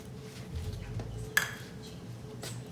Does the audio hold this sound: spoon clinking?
yes